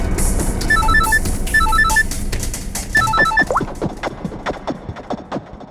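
A phone rings in short repeated trilling bursts, three rounds in the first half, over background noise, then fades into clattering sounds.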